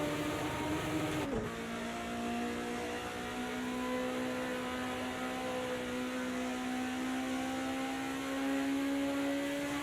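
A BMW 2002 Stanceworks Edition race car engine in Project Cars 2 drones steadily at Bathurst, holding a high, even pitch after a brief shift near the start, loud and close with no talking.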